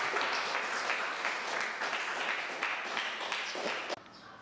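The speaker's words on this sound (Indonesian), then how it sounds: "Terima kasih aplaus untuk" Applause from a classroom of students after a discussion, a steady dense clapping that fills the room for about four seconds before cutting off abruptly.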